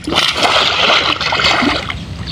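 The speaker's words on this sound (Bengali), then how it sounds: "তো আমি 1 2 3 পর্যন্ত করবো আর তোমরা সবাই ডুব দিবা" Water splashes and churns up close as a group of people duck underwater together for a breath-holding contest, a loud continuous rush of splashing and gurgling over about two seconds.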